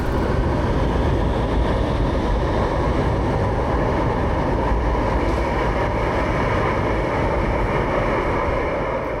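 A steady, loud rumble of an LRT Line 1 light rail train idling at its last station, constant and broad with no voices.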